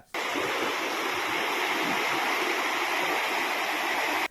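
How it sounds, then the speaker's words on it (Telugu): Loud, steady rush of Mid Manair Canal water gushing through a breach, a continuous roar that starts and stops abruptly, with no other sounds. "చూసినరా నీళ్ళు ఎట్లా పోతున్నాయో"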